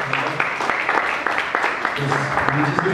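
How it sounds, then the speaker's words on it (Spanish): Scattered audience applause at a presentation of the Radio Bocinas gathering at Casa Talavera, steady and moderately loud, with voices talking over the clapping. "Un aplauso a Joaquín, uno de los promotores de este encuentro."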